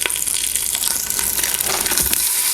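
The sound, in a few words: beef searing in an Instant Pot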